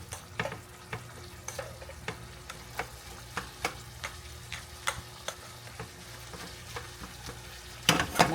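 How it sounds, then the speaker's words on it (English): Rice being poured and stirred into a pot of turkey wing dirty rice, a low steady sizzle under a regular series of light ticking scrapes and taps, with a louder clatter at the very end. "Now we're gonna put the rice in it."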